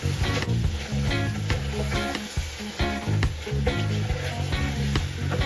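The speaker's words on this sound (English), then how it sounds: "are you hearing that sizzle? That is what you want." Goat meat for Jamaican curry goat sizzles steadily in a pot, a continuous crackling hiss that fills the whole stretch at moderate loudness over a low background, with no talking.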